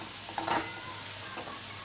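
Malvani-style fenugreek leaf curry is stirred in a pan after salt is added, two soft scraping strokes over a quiet, low sizzle with no talking.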